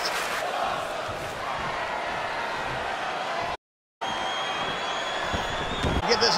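A packed AEW wrestling arena crowd in South Carolina roars continuously, a dense loud wash of cheering and shouting with a brief dropout midway and a rising swell near the end.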